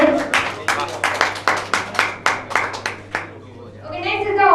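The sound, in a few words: audience clapping for correct quiz answer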